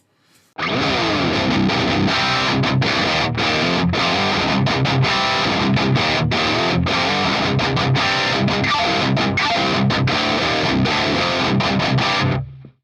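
High-gain metal guitar through an Ampero II Stomp with amp, impulse response and noise gate: a loud, dense stream of distorted, palm-muted chugs and riffs that cuts off cleanly at the end.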